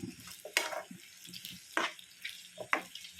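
Tomato and onion sauté in coconut oil with a soft, quiet sizzle. A few sharp spatula strokes scrape and stir at intervals, close by, with no one talking.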